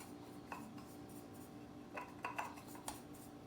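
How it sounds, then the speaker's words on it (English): Ground spice blend scraped out onto a small dish for Russian cabbage soup with leeks and dill: faint, scattered scratchy clinks of utensil against dish, a few brief louder scrapes near the end, no talking. "Make sure you scrape it all out."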